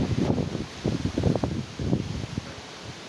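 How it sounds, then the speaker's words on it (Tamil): Strong wind gusting through trees near a home, a steady broadband roar with rustling surges rising and falling across the whole stretch, loud and close with no talk. "காற்று பர் எப்படி அடிக்குது."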